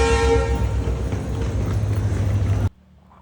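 A train arriving at Majestic railway station in Bangalore rumbles loudly with a brief horn-like tone at the start, the heavy rolling noise continuing for a couple of seconds before cutting off abruptly.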